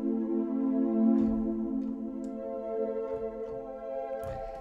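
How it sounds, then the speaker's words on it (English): Sustained orchestral chords from the Diva synthesizer's Moon Pit Orchestra preset, thick and steady with a light reverb tail and trimmed lows, with a few faint clicks along the way. "First preset that we're going to use is called Moon Pit Orchestra, and it sounds like this."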